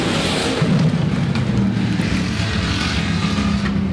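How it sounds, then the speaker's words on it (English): Hobby stock race cars roar through the final turns toward the checkered flag in a heat race at Rapid Speedway, a loud, continuous engine drone that stays steady throughout. "Final set of turns for Nick Brady as he comes to the checkered flag in the win in heat race number 4"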